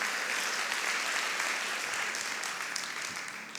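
A church congregation claps during a sermon on the Holy Spirit, a full, steady round of many hands that holds evenly and then begins to thin slightly toward the end, with no voices over it.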